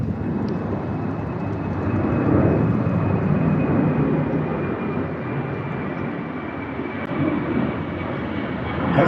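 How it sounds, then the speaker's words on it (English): Inside a small airplane in flight, the engine drones loud and unbroken, a dense steady roar that holds level throughout with no pauses. "You might want to start gaining a little altitude though, Hoss."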